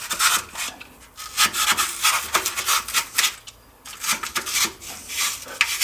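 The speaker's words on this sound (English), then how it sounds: "I'm going to cut a little bit of this insulation away around the top." A blade cuts and saws through foam pipe insulation around the top of a hot water cylinder. The scraping and rasping comes in close, uneven bursts with short pauses in between, and no one speaks.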